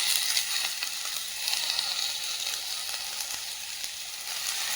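Chopped spinach greens go into a pan of golden sautéed onions and sizzle with a steady, bright hiss that carries on without a pause. There is no talking.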